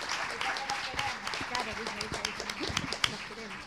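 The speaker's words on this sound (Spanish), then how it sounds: "les vamos a dar igual un aplauso porque lo merecen" Modest audience applause at a public talk on sexual health, scattered claps with chatter and voices mixed throughout.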